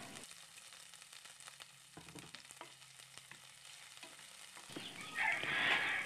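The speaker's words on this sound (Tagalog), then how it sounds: "kapag mainit na ang ating mantika, ilagay na natin ang hiniwang sibuyas" Sliced onions sautéing in hot cooking oil, a fine crackling sizzle that stays quiet and close, then swells into a louder, brighter hiss near the end as the pan heats up.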